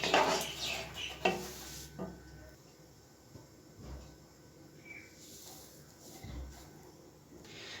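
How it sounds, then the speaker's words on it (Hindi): Chicken biryani is dished out of a pot with a few clinks and scrapes of a serving spoon against metal, fairly quiet and close, followed by softer handling noises. "अब मैं इसको डिश आउट करता हूँ"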